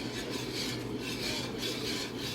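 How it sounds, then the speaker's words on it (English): A utensil stirs thickening batter in a rhythmic scraping, swishing pattern, several even strokes repeating closely and steadily with no voices. "Keep on stirring this better."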